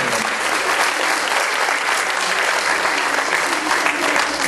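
An outdoor crowd at a town inauguration in Mahuixtlán, Veracruz, gives a loud, continuous round of applause, dense clapping that stays even throughout.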